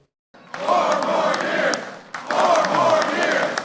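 A crowd of union workers cheers and shouts at a Biden rally near the White House, two swelling waves of loud, mid-distance crowd noise with a brief dip between them.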